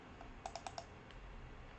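Computer mouse clicks while using papercraft software: four quick, crisp clicks in two close pairs, faint and near, against a quiet room hiss.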